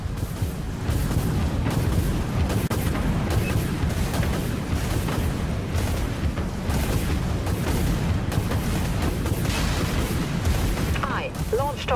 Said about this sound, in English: Autoguns fired up.